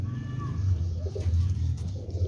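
Pigeons coo nearby, low, soft, throaty warbling that rolls on continuously through the whole moment.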